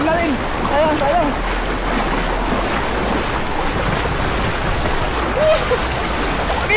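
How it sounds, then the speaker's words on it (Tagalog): A strong river current rushes steadily beside a fishing net, giving a continuous loud wash of water mixed with wind buffeting on the microphone and some background voices. "Ang lakas ng agos yan"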